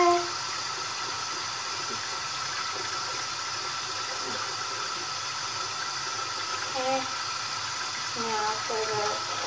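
Tap water runs steadily into a sink while a stained Baby Alive doll gets washed, a constant close hiss with faint clinks and light handling sounds on top.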